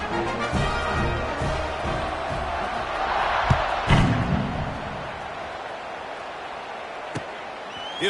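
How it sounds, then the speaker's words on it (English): A football stadium crowd keeps up a steady, dense roar and murmur after a score, with scattered sharp thuds and claps rising through the noise. "this crowd is buzzing after that last score"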